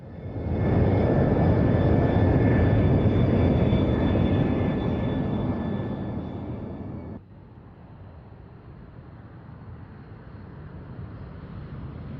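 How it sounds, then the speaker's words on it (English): An Aero L-39 jet roars past at an air show display, a loud broad whooshing rush that gradually fades, then drops abruptly to a quieter distant hum. "They fly the hugely successful Aero L-39"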